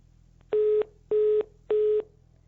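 Three identical steady electronic phone tones, evenly spaced with short gaps, like a disconnected-call signal over a faint line hum.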